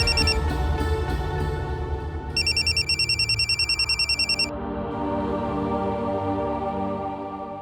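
A phone rings with a trilling electronic tone, one sustained burst after an earlier ring, over a busy room background.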